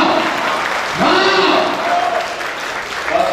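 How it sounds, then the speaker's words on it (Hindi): Audience clapping at a real estate developer's event fills the stretch, with a voice talking loudly over the applause near the middle and end. "सिर्फ तालियां बज रही हैं।"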